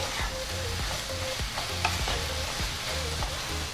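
Pad woon sen glass noodles with eggs are stirred in a hot pan, with rhythmic scraping and tossing strokes over a quiet, steady sizzle.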